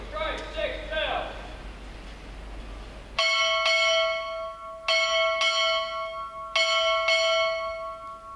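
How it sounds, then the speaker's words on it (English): A ship's bell struck six times in three pairs at a naval graduation ceremony, each clear ringing strike sustaining and decaying, loud and close, following a brief murmur of voices. "strike 6 bells"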